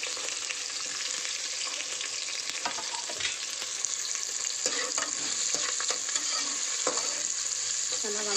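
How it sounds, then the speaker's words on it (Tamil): Onions, curry leaves and green chilies fry in a pan after cumin seeds have crackled, giving a continuous close sizzle with light stirring scrapes through it and no voices. "ஜீரகம் நல்லா பொரிஞ்சதுக்கப்புறம் கருவேப்பிலை, வெங்காயம்,"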